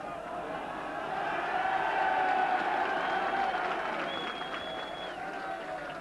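A large racecourse crowd at the 1986 Cheltenham Gold Cup applauds and cheers in a sustained, distant roar that swells and then eases, with whistles rising above it.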